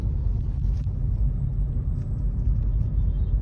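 An MG Hector SUV rolls along at low speed under its driver-assistance system, giving a steady, close low rumble of road and cabin noise with no talk.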